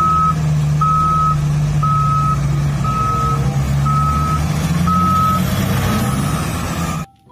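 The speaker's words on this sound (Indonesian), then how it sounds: "Wow, lihat, ada beko ekskavator" Toy excavator giving off a steady, loud electronic reversing beep, about seven evenly spaced pulses over a low motor drone, then stopping abruptly.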